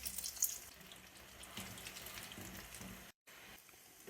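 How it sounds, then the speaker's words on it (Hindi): Potato samosa rolls fry in moderately hot oil, giving a steady low sizzle and bubbling throughout with no voices, broken by a brief silent gap near the end. "हम रोल समोसे फ्राई करेंगे।"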